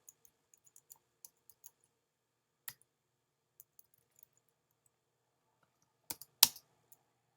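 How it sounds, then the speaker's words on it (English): Sparse keystrokes on a computer keyboard, a few light scattered clicks followed by a tight burst of louder taps near the end, recorded close with no talking. "I'm gonna type"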